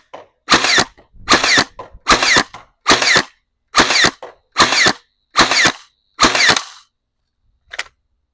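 An X-Shot motorized piston pump toy blaster fires eight sharp, evenly spaced mechanical bursts, each with a whirring pump, followed by a brief pause and one softer final click, close and loud.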